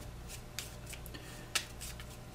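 Cards from the Earthborne Rangers card game being shuffled at a table: soft, faint rustling bursts across a couple of seconds, with one sharp snap partway through and no talking.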